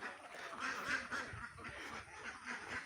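Several ducks quack faintly beside a pond, with soft, irregular calls repeating over a quiet outdoor background.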